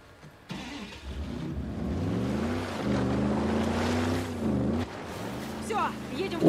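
A vehicle engine hums and revs steadily as it drives in the Uncharted: The Lost Legacy video game, with rushing water or surf beneath and a voice speaking over it.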